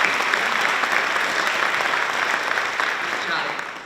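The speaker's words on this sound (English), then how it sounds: "I just want to give one more big round of applause to the officers that just spoke." An audience at a National Honor Society induction ceremony gives a sustained round of applause, dense and steady, easing off slightly near the end.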